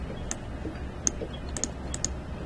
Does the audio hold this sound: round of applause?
no